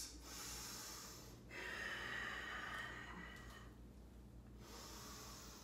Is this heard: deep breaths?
yes